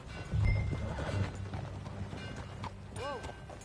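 Hooves clip-clop at a run from a horse in the Western game Red Dead Redemption 2, with a short whinny near the end, mixed under game voices and ambience.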